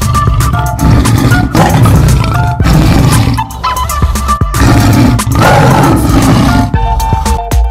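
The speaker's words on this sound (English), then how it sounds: "A tiger makes a grr sound." A tiger roars and growls loudly in several rough, rumbling bursts with short pauses between them.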